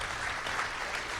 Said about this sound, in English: we're gonna give him a round of applause because I think he did a great job